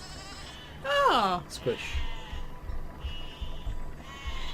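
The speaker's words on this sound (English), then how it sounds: "the sheep are attacking you here. They are following you." Sheep in the video game Besiege let out a loud, wavering bleat up close, followed by a brief squelch and quieter game noise, with someone speaking briefly.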